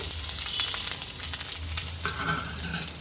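Chopped ginger and garlic sizzle steadily in hot oil for dhal tadka, a loud close crackle with occasional stirring scrapes and no talk.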